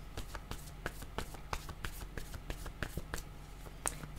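Tarot cards shuffled and drawn by hand at close range, a quick run of soft papery flicks and snaps in an irregular rhythm, with no voices.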